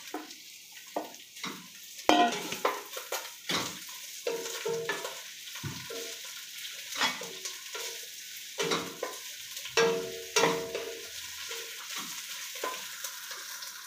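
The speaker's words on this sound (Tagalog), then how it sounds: "Painitin muna natin yung mantika bago natin lagyan ng bawang. Hinahan natin muna yung lemongrass." Lemongrass sautéing in hot oil while chicken is being prepared, giving a steady close sizzle broken by repeated stirring scrapes and clinks, with no voices.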